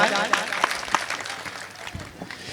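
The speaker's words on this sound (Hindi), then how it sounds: "एक बार श्रोताओं के सम्मान में जोरदार तालियां बजाएं" Audience applause at a Hindi kavi sammelan poetry recital, a short burst of clapping heard under and around a voice.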